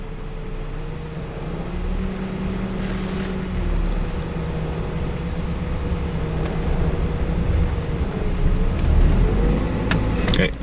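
A pickup truck fitted with tire chains creeps forward into snow, its engine droning low and steady with a slowly wavering pitch, fairly close, plus a faint rattle and some wind buffeting near the end.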